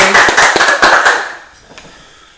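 Several people at a podcast recording clap their hands in a loud, close burst of sharp claps for about a second and a half before they fade to scattered quiet taps.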